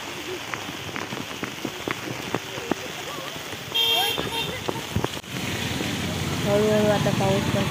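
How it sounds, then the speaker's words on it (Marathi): Steady rain patters on surfaces outdoors as a monsoon downpour begins to ease, a constant close hiss with scattered drips under a person talking, and an engine hum in the background. "हळूहळू आता पाऊस पण कमी व्हायला लागला असं वाटतं मला."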